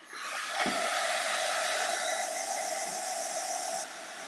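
A heat tool blows onto a holiday transfer with a steady, loud, close airy hiss and whir that holds for about three seconds before dropping slightly lower near the end.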